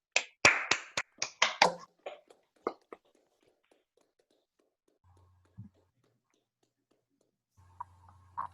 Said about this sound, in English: we can all unmute ourselves and clap